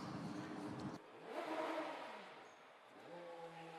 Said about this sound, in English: I hear some revving.